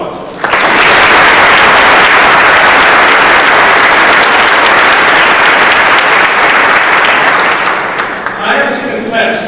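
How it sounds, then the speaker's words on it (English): A large audience at the World Affairs Council breaks into sustained, dense applause that swells quickly and holds steady and loud for several seconds before thinning slightly near the end. "Ladies and gentlemen, please give them all a warm round of applause."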